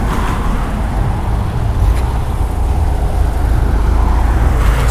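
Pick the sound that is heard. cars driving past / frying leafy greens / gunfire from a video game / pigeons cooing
cars driving past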